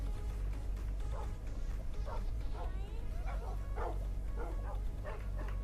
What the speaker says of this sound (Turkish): Köpek sesleri gelmeye başladı.